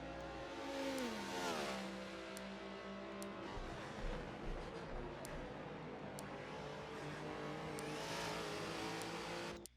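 Race cars, including a Prius and a Chevrolet, run a multiclass race on the Sebring track, their engines droning steadily with rising and falling revs and gear-change sweeps as they pass close by.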